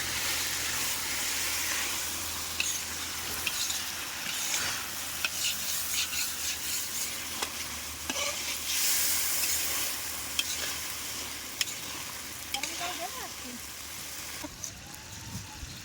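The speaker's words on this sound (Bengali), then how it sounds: "দেখুন কীভাবে ফুটছে, একটু নাড়া দাও" A pot of curry bubbles over a high flame while a spatula stirs and scrapes the bottom, a steady simmering sizzle with irregular scraping knocks and voices in the background.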